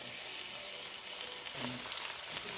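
Beef steak frying in a pan gives a steady, close broadband sizzle and crackle with no talking, and a few faint kitchen clinks come in near the end.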